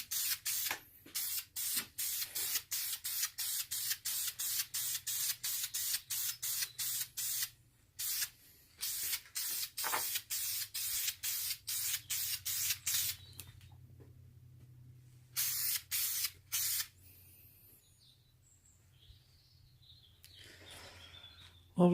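Crinkle-finish paint is sprayed onto Mazda engine covers in thick coats: a long run of short, sharp aerosol bursts, a pause, a few more bursts, then quiet with faint birdsong.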